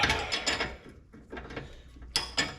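Hand tool working a seized steering-linkage bolt loose with an Allen wrench: a few close, bursts of metallic ratcheting clicks and scraping, with short pauses between them.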